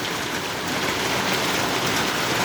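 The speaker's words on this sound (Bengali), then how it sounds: "30 মিনিট ধরে বৃষ্টি হচ্ছে, এখন আরও চলবে যা মনে হচ্ছে।" Heavy rain pours during a stormy night, a dense, even hiss of falling water that holds steady throughout, close and with no voices.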